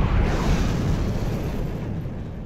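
A missile launch in the game From The Depths, heard as a single loud, broadband whoosh-roar that starts strongly and holds steady with a slight fade across the clip, with no talking.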